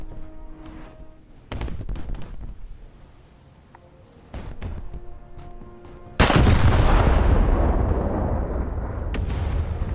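Heavy naval battleship guns firing in a sea battle video game: scattered booming shots early, then a loud, sustained roar of close gunfire and blasts that fills the second half.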